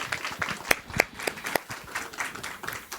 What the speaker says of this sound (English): give them a round of applause for taking this on